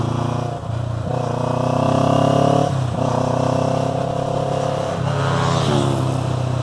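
Motorcycle engine held on the throttle while engine braking into a corner during high-grip riding, its steady harmonic drone shifting pitch several times as the revs drop and rise, loud and close throughout.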